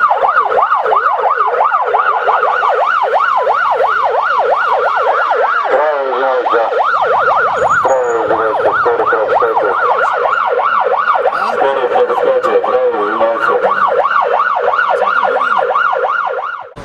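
An ambulance siren wails loudly and close by on a city road, a rapid rising-and-falling yelp that repeats steadily, briefly shifting pattern midway before resuming, with traffic rumble underneath.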